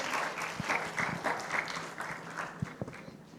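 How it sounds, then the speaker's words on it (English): Conference audience applauding as a speaker is welcomed to the stage, a steady patter of many hands clapping at moderate distance, fairly quiet and gradually thinning. "Let's give her a round of applause, everybody."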